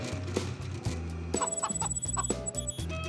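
Chicken clucking in short, close, irregular bursts, loud and alone with no talk, in a setting where the bird is trialling a vibrating poultry jacket.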